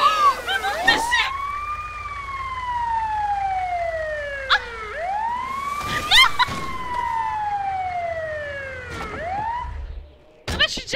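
An ambulance siren wails in a video game, loud rising-and-falling sweeps repeating about every four seconds, with short sharp bangs and thuds breaking in between.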